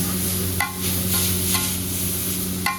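Chow mein cooking in a pan with a loud continuous sizzle, broken by a few sharp metallic scrapes and clanks from stirring.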